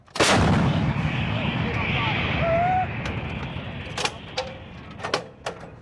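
Towed 155mm M777 howitzers fire during a U.S. Marine live-fire exercise: one huge near blast rolls into a long rumbling echo, with several fainter later reports and brief shouted voices over the field.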